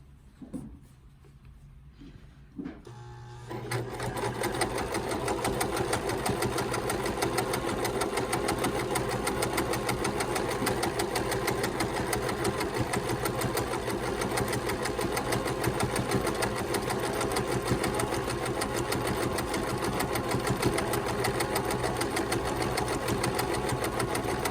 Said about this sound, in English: So I'm gonna put that foot down, and now I can keep sewing.